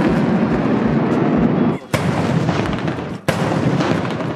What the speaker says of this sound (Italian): Ah, non i fuochi d'artificio, cioè sparano proprio.